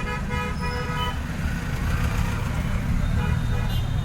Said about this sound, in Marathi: आता इकडच्या साईडने खूप ट्रॅफिक जाम झालेली आहे तर ती पण हळूहळू येत आहेत